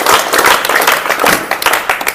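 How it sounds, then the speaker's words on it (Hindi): Loud, close applause from an indoor audience welcoming a guest onto the stage at a company achievement event. The clapping is dense and sustained throughout with no voices over it. "तो चलिए जोरदार तालियों से वेलकम"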